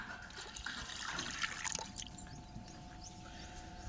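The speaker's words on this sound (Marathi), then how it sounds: "आपण आता पातेल्यामध्ये पाणी टाकून घेणार आहोत" Water splashes and trickles into a cooking pot for a couple of seconds, then fades to a faint steady hum.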